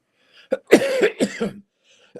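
A close, harsh cough burst in several quick hacks, followed by a brief pause and a short throat sound at the end.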